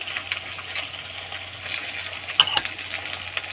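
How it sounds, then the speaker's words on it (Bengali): Potatoes frying in hot oil with a little turmeric, a soft continuous sizzle up close with a couple of light metallic clinks near the end and no speech. "এই তেলেতেই আলুগুলো ভেজে নেব।"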